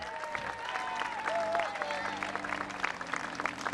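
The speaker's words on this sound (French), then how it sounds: "On l'applaudit bien fort, Lionel Fréchette" A parade crowd at the 150th anniversary celebration in Sainte-Hélène-de-Chester applauds steadily for a few seconds while voices carry over and through the clapping.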